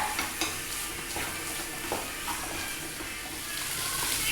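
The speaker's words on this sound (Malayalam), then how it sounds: "ഇനി ഇതിനകത്തിട്ട് ഈ ചിക്കൻ ഒന്നും കൂടി ഒന്ന് വഴറ്റിയിട്ട് എടുക്കുക" Chicken sautéing in ghee for a Kerala-style spicy chicken roast, a steady loud sizzle with repeated scraping stirs of a spoon against the pan, no voices.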